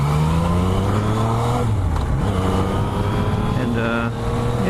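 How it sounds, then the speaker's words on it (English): A steady engine drone with whooshing air rushing into the intake of a stock 2015 Yamaha FZ-09 motorcycle while riding, the pitch shifting as the bike accelerates and eases off. "Right now what I'm hearing is just a lot of air coming from the intake"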